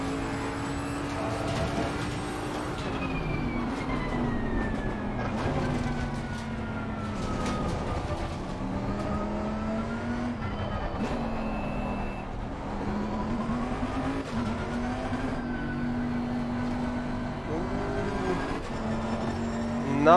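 A race car engine in Assetto Corsa Competizione at Paul Ricard howls through gear changes, rising and falling in pitch as it brakes and accelerates for a long continuous stretch, close and steady.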